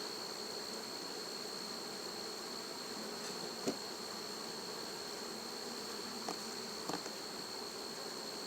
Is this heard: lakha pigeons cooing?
no